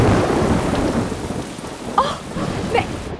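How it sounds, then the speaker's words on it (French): Steady heavy rain hisses over the whole stretch, with a couple of rumbling thunder crashes breaking through near the end. "Il commence tout juste à pleuvoir."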